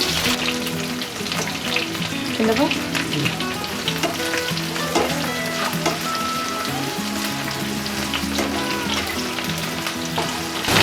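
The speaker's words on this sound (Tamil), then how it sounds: "அந்த வெங்காயமும் வெள்ளைப்பூடும் லைட்டாக அப்படியே பொன்னிறம் ஆகணும், அது வரைக்கும் வதங்கட்டும்" Onion and garlic sauté in sesame oil for vatha kulambu, a loud, close, continuous sizzle with frequent stirring scrapes over it and no speech.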